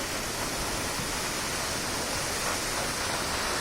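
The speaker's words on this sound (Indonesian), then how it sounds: "coba kita pelan-pelan dekati air terjunnya ya guys" Gitgit waterfall in Bali, roughly 48 meters tall, heard up close as a loud, steady, broadband roar of falling water that fills the whole stretch with no talking.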